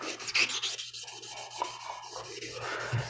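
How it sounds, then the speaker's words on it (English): 320 grit sandpaper rubs across a sharpening stone to clean it, a continuous gritty scrubbing in steady back-and-forth strokes, close and moderately loud, with no talking. "this 320 grit sandpaper that I'm using, you've seen what it's doing. So it's doing a fine job at cleaning"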